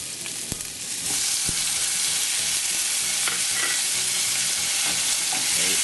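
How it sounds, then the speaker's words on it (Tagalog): Onion and tomato saute in hot oil in a pan, a steady close sizzle that swells after the first second and holds without pause, with a few sharp clinks of a utensil against the pan near the start. "Igigisa lang natin ito hanggang sa lumambot yung sibuyas, pati na rin yung kamatis."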